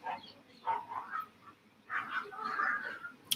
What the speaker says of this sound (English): You might be able to hear some dogs in the street.